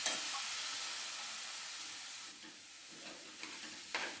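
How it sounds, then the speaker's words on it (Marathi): Spice masala sautéed and stirred in a pan for a Maharashtrian val usal (field bean curry), giving a steady close sizzle with brief scraping stir sounds toward the end. "थोडासा मसाला टाकून परतून घेऊया।"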